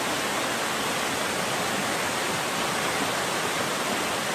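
Small waterfall of the Mıhlı stream in the Darı Deresi canyon, Kazdağları, heard from directly in front: a loud, steady broadband rush of falling water, continuous and unchanging with no voices.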